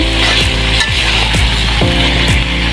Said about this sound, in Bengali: মাংসটা কিন্তু আমি এখনো কষাচ্ছি প্রায় আধা ঘন্টা হয়ে গেছে